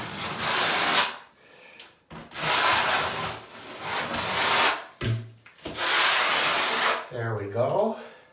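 A 1/2 by 1/2 notched trowel drags thin-set adhesive across a wall for large format tile, heard as long, loud, close scraping strokes in repeated passes with brief pauses between them.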